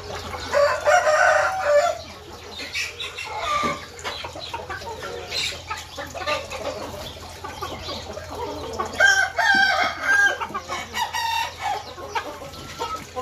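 Chickens and roosters on a farm, loud nearby clucking with repeated crowing calls, rising and falling across the whole stretch, no voices present.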